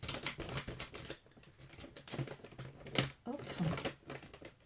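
A new package holding a filter mask is torn and rustled open up close, with crinkly tapping and scraping bursts under a voice that speaks briefly.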